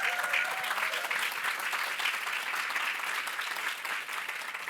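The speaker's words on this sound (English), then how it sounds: "If you'll join me in giving them a round of applause." Sustained applause from an audience at a live awards-style event honoring a group of Indigenous community fellows, steady and dense clapping throughout with no break or voice on top.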